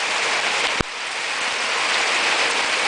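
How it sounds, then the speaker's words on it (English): Heavy monsoon rain pours down in a dense, constant hiss, loud and close, with one brief sharp knock early on and no voices. "this is not your typical thunderstorm. It's more like a monsoon. The rain has been just terrific."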